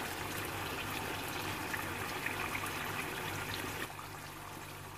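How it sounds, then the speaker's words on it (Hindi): Roughly half a cup of water is poured into a pot of aloo gosht curry, giving a steady, soft trickling and splashing that stops abruptly near the end. "बराबर मैंने पानी डाला है इसके अंदर।"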